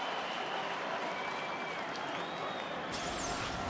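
A baseball stadium crowd at a 2009 Florida Marlins at Colorado Rockies game cheers and applauds a play, a broad, sustained wash of clapping and crowd noise heard from a distance.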